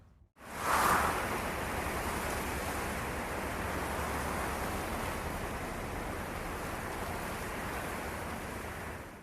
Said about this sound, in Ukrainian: Послухайте, як шумлять листочки на деревах.